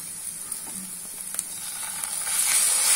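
Ginger garlic paste sizzles in a pan with onions while cooking chole curry, a steady close hiss with faint crackles that swells louder toward the end, no voices.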